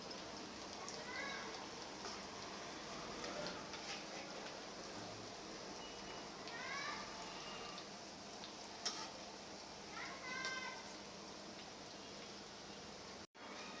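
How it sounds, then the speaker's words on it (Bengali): Hilsa fish roe fries in a pan with a soft continuous sizzle and crackle, fairly faint, with occasional light scraping as it is stirred. "ডিমটা ভাজা হোক।"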